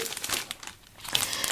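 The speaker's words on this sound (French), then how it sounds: "Je suis désolée pour le bruit du papier" Paper packaging crinkles and rustles close up in bursts of sharp crackling, easing off briefly in the middle before starting again.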